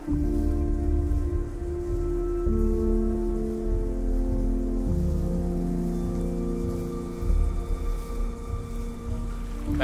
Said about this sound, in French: il fait 23 degrés dehors et il pleut à l'intérieur